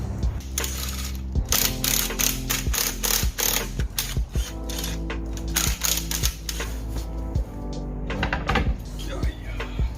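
A ratchet clicks repeatedly in bursts while the rear wheel comes off a jacked-up Dodge Magnum, with sharp rapid mechanical ticks over a steady low hum, close and fairly loud, and some voice mixed in.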